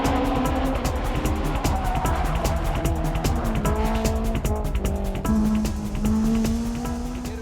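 Turbocharged race cars, a Mitsubishi Lancer and a BMW M3, race uphill with loud, continuous engine roar, rising revs and gear changes, plus intermittent tire squeal throughout.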